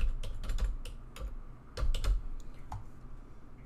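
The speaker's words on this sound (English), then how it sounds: "let's just type in" A computer keyboard clatters with quick, close keystrokes in short bursts, pausing briefly between words, while text is entered for custom styles in Affinity Photo.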